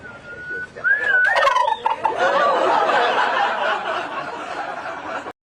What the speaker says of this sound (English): Want to give us a gobble?